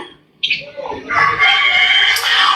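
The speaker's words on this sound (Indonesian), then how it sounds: "Kok ada ayam?" A chicken clucks and a rooster crows close by, starting abruptly after a short quiet moment and carrying on loudly to the end, with some voices in the background.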